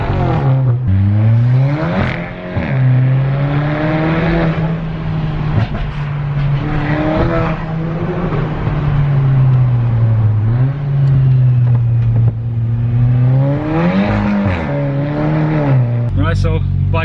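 A VW Golf GTI fitted with a K04 turbo idles and revs nearby, its engine note rising and falling in loud swells, while people talk over it throughout.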